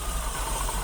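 An Opel Corsa engine idling unevenly, a steady close mid-pitched hum with slight wavering pulses through a brief stretch, no voices.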